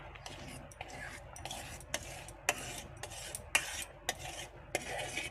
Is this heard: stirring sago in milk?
yes